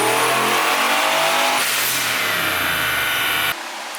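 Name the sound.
Triumph TR8 V8 engine revving during dyno pull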